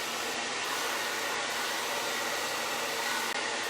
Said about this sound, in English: Will your dryer have an anti-static ion feature?